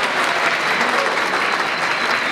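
A crowd at a Turkish wedding ceremony claps steadily and densely for the bride throughout, a loud, continuous applause with no pauses.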